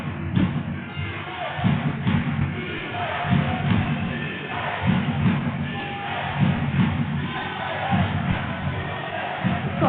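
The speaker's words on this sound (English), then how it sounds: "a nice loud Coventry crowd" A loud, rowdy crowd at a Coventry versus Warwick varsity men's basketball game, with a continuous roar of voices and rhythmic surges of shouting and chanting. A commentator talks over it.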